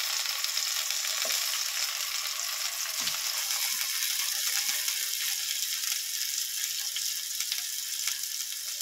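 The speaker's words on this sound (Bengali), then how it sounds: "আমি টমেটোটা ভেজে নিয়ে ফিরে আসছি।" Halved tomatoes fry in hot oil with a dense, steady sizzle and crackle, close and continuous for nearly nine seconds, with a few faint clicks and no voices.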